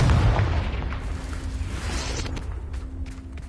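A Confringo fire spell bursts in the video game Hogwarts Legacy, giving a loud, boomy explosion right at the start that decays into a sustained rumbling roar, with no talking.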